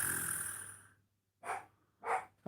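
A dog sounds off in short bursts nearby, two or three quick rough barks or snorts after a longer hissing noise, faint and close with silence between them.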